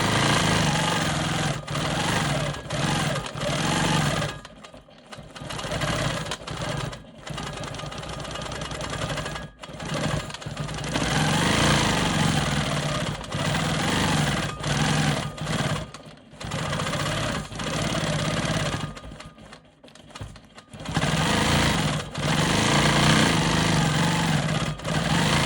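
A sewing machine free-motion quilting swirl patterns on a star cross quilt block, its motor whirring steadily in long runs with brief pauses between bursts of stitching, close and loud.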